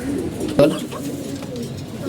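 Pigeons in a netted loft, recovering from illness in cold weather, give a short, low, throaty coo close by. Someone talks over them.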